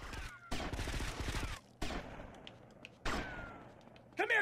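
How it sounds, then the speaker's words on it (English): Bursts of video game gunfire from a shootout with an enemy in GTA Vice City, several loud volleys of rapid shots separated by short gaps, the last one cut short. "Let's keep shooting him."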